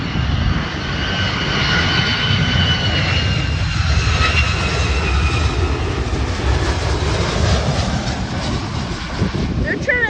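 A United Airlines Boeing 757 jet inbound from Chicago O'Hare roars steadily on approach for landing, loud and sustained engine noise with a rising whine, close by and heard alone without talk.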